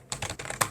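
Several quick computer keyboard keystrokes in a short close burst, typing HTML code, with a sharper final click and no talking.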